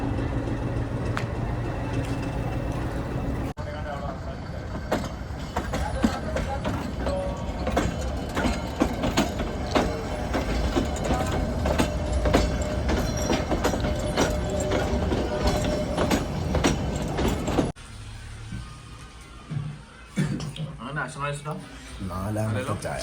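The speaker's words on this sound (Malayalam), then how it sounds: "ഇങ്ങോട്ട് ട്രെയിൻ റിവേഴ്സിലാണ്." A train moves in reverse through Lovedale railway station in Ooty, a steady rolling rumble with faint rhythmic wheel clatter, fairly close, continuing for a long stretch before quieting near the end.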